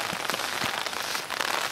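Steady light rain pattering on surfaces outdoors, a soft continuous hiss with scattered tiny drop taps, faint and alone.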